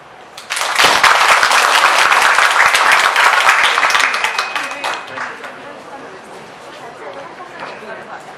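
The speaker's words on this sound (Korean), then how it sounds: "박수 보내주세요." An audience at a design firm's briefing on a redevelopment project breaks into loud, sustained applause for about four seconds, which then fades into low murmuring chatter.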